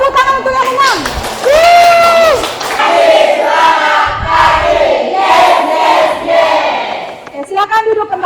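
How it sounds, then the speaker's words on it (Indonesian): A school class cheers loudly and claps for the winning group, with voices shouting together in a sustained, rowdy roar that swells and dips before a few claps at the end. "kasih tepuk tangan untuk yang menang."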